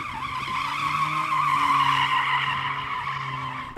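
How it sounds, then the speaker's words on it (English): Mercedes-AMG A45 S, a four-wheel-drive hatchback in drift mode, sliding with a sustained high tire squeal over a steady engine drone, loud and continuous before cutting off abruptly. "that Mercedes has a very clever drift mode where it can somehow slide even though it's a 4-wheel drive car"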